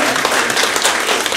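Audience applause at a workplace celebration for a senior living community, a dense, steady wash of clapping from a large crowd, loud and continuous throughout with no voices over it.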